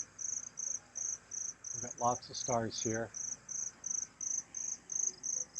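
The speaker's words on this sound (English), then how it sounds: "You hear the crickets?" Steady, evenly pulsed cricket chirps run throughout at a high pitch at a house in the Philippines, with someone speaking briefly in the middle.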